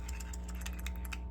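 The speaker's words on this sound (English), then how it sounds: "if you're ever spinning the pump and you hear it go make a little tick noise" A VP44 diesel injection pump spun by hand, its internal rollers giving off a quick run of faint, light ticks over a steady low hum.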